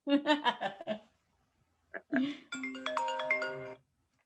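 A mobile phone ringtone plays a bright, repeating electronic melody for about a second at a comedy spot, coming right after bursts of laughter and talk.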